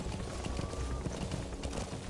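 Horse hooves galloping in the video game Metal Gear Solid 5, a quiet, quick run of rhythmic thudding footfalls heard alone.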